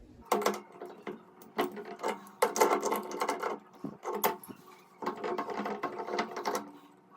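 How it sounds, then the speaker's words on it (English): A wrench turns and loosens an old showerhead off its pipe, giving bursts of close metallic scraping and clicking in uneven spurts separated by short pauses, no voices. "getting our wrench on this. We're gonna turn it to the left and pull this straight off."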